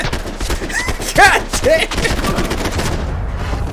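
Rapid gunshots in Max Payne crackle in a dense, continuous volley of close, sharp bursts, layered with a shouted voice and game effects.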